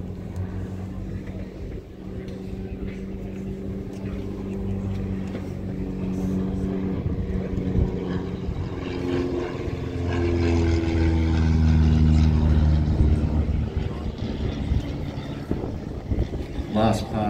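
A de Havilland piston-engine trainer, one of the postwar types introduced in 1946, drones past at an air show, its propeller engine rising to a loud peak and easing slightly, with an announcer talking over it throughout.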